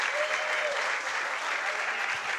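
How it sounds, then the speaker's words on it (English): Audience applause breaks out at a live talk show for a guest coming on, a steady dense wash of clapping filling the whole stretch at even loudness. "Everybody give it up for Eamon Dunphy"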